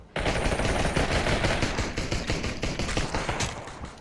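Sustained rapid automatic gunfire in the VR shooter Population: ONE, dense overlapping bursts of shots running steadily for the whole stretch at close range, with no talk over it.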